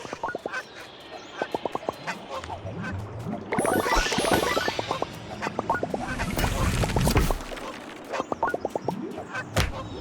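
Goose in the video game Atomic Heart honking and squawking in rapid bursts, loud and close, with heavier flapping or scuffling noise in the middle.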